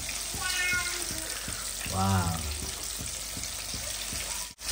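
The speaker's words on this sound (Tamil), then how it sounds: "பாருங்க, நல்லா பொரிஞ்சுக்கிட்டு இருக்கு." Prawns coated KFC-style sizzle and crackle steadily in hot oil, a close, continuous frying hiss with a brief louder burst partway through, while a voice speaks over it.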